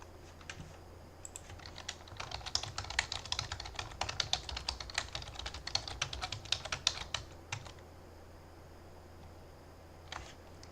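Steady rapid typing on a computer keyboard while writing C++ code, a dense run of close clicking keystrokes that thins out and stops, with one last isolated tap near the end.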